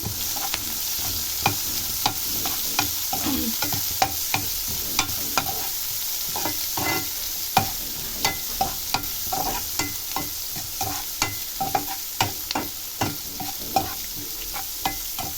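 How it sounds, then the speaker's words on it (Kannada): Curry leaves fry and sizzle in a hot pan while a spoon stirs them, giving a steady crackling hiss with repeated scraping taps at a fairly close, moderate level, no talk. "ನೋಡಿ ಹಾಗೆ ಕರ್ಬೇವಿನ ಸೊಪ್ಪು ಹಾಕ್ಕೊತಾ ಇದ್ದೀನಿ ಇದನ್ನೆಲ್ಲ ಫ್ರೈ ಮಾಡ್ಕೊಳ್ಳೋಣ"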